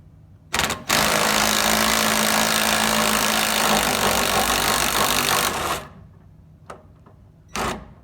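Pneumatic impact gun on a 2008 Dodge Ram 1500 Mega Cab during a leveling kit install, one long loud rattling burst of about five seconds, then a couple of short quick bursts, close by with no talking.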